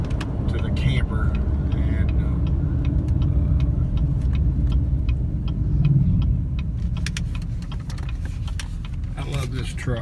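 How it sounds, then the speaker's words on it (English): Pickup truck cruising along a road toward the entrance of Mammoth Cave, its steady low engine and tire rumble continuous and close throughout, with faint clicking and ticking mechanical sounds on top. "I love this truck. It's got a really tight turning radius"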